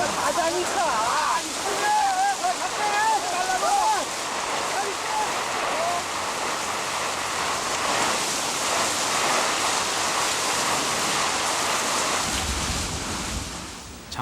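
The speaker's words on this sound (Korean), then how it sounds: "중부지방엔 때 아닌 폭우가 심수를 부리고 있었고" Heavy rain pours down steadily in a late-summer downpour, a loud, continuous wash of broadband noise with rushing water like surf, filling the whole stretch without letup and ending with a brief low thump.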